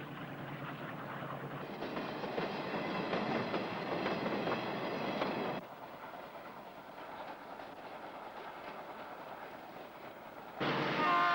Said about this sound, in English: train snakes round the Harvey Range.